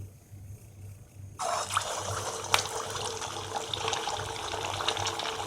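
A kachori is dropped into very hot oil in a kadhai: after a short quiet stretch, a loud, dense sizzle bursts in and keeps bubbling and crackling steadily, up close.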